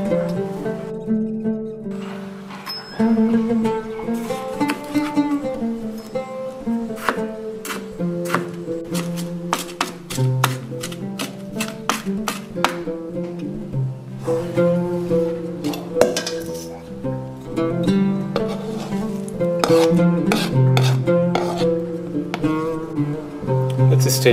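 Fresh herbs for tabouleh being chopped with a curved blade rocked back and forth, giving a run of quick, close taps and clicks on the board over steady background music.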